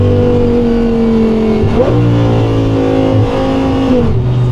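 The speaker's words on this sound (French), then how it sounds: "et ce coup de gaz au rétrogradage, ouais, c'est grave" Audi R8 V10 engine revving loudly up close, a sustained drone broken by two sharp throttle blips on downshifts, each a quick rise and fall in pitch.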